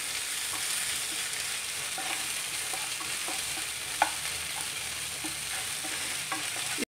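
Ginger and chili paste frying with onion in a pan for rajma curry, a steady hiss of sizzling with soft scraping stir strokes throughout and one sharper clink near the middle.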